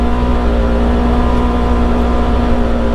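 A 2024 Polaris RZR XP 1000 Ultimate side-by-side drives over ruts with a loud, steady engine drone and droning hum at close range.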